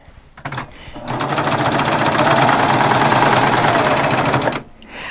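A Baby Lock serger sews a cover stitch chain, running in a steady, fast mechanical whir for about three and a half seconds after a brief start-up, loud and close.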